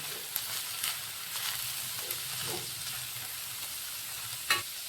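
Cabbage and other vegetables for veg fried rice frying in a pan, a soft, even sizzle with occasional light scrapes of a ladle and one louder knock near the end, heard without any speech.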